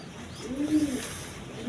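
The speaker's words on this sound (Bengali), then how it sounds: "দুইটা নরকবুতর গোপালগঞ্জের বড় পায়রা" A pair of big Gopalganj male pigeons cooing, one deep rolling coo rising and falling at close range, with a faint second call at the end.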